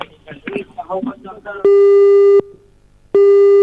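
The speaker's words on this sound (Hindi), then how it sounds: "ये देखा कि हमने सवाल पूछा और फोन काट दिया, दोबारा फोन लगाया जाए।" After a voice speaks briefly, a telephone busy signal follows a cut-off call: two loud, steady single-pitch tones separated by a short gap of silence.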